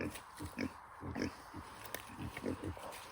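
Pigs grunt and oink repeatedly up close, short low snorts in an uneven rhythm over a steady background hiss.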